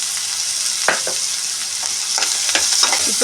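Onions frying with turmeric and salt in a pan, a loud, continuous hiss and sizzle with scattered scraping stirs of a spoon through it.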